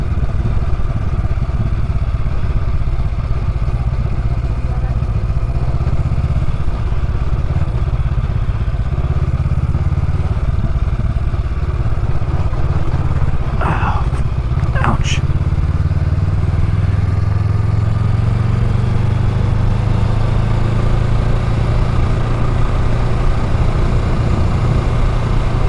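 A motorcycle rides down a private access road, its mid-pitched engine droning steadily and close for the whole stretch, with a couple of brief clatters midway and the revs rising and falling slightly.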